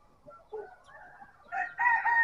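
A bantam rooster, one of a breeding flock on a small poultry farm, lets out a single close, loud crow that rises and swells over about two seconds.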